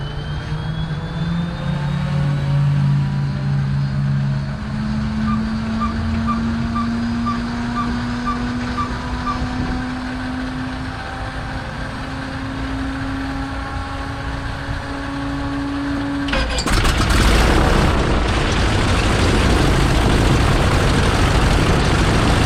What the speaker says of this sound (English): here we are in a Stearman with Scott Perdue from FlyWire.